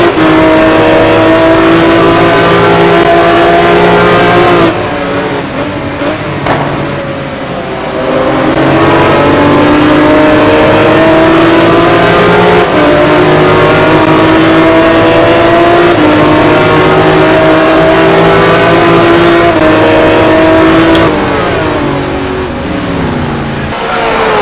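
Race cars in a racing game roar at full speed around the Monza circuit, a McLaren among them. Loud overlapping engine notes climb and drop through gear changes for the whole stretch, with a brief dip near the five-second mark.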